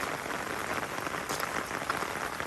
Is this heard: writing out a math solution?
no